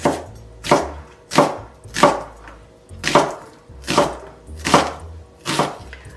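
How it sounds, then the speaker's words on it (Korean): Half an onion sliced thinly with a knife on a cutting board, eight crisp, evenly spaced chops in a steady rhythm, close and clear with no talking. "양파 반개는 곱게 그냥 채 썰어 주시면 되겠습니다"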